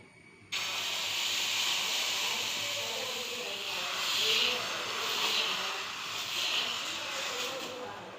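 Jackfruit-flour dosa batter hits a hot pan over low flame and a steady sizzling hiss rises abruptly, continuing loud and close for several seconds.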